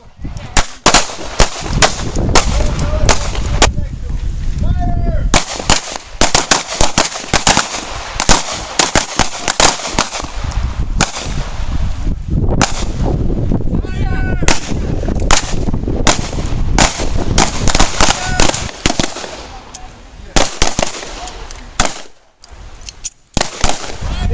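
Pistols fired at a police-run basic shooting practice range: a dense, loud volley of overlapping shots from several shooters, cracking almost continuously with brief gaps and a voice faintly audible underneath.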